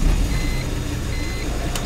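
A BMW M3 engine strains to start in freezing 9-degree weather, with a loud, rough, steady churning rumble close by and a short sharp jolt near the end.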